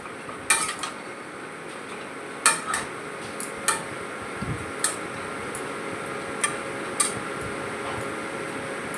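A lid set on a pot of traditional Bengali bottle gourd greens brings a handful of sharp metallic clinks spaced over several seconds, against a quiet, steady background hum.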